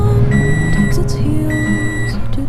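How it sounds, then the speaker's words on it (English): Repeated electronic reversing beeps from a nearby truck backing up at a car purchase, steady tones recurring about every second over a loud, continuous engine rumble. "What is that beeping sound?"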